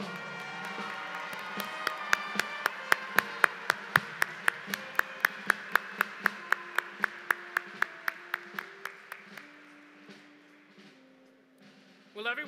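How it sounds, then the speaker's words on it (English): Rhythmic clapping at a university spring commencement in 2021, a steady series of loud, evenly spaced claps over crowd noise and a sustained tone, slowing and fading before a brief burst at the end. "Let's give them all a round of applause."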